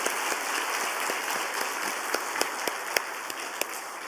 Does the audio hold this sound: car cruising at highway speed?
no